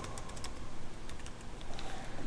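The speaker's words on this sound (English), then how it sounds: "Okay, and just keep typing." Typing on a computer keyboard during a spreadsheet class, a steady run of quick close clicks with no talking over it.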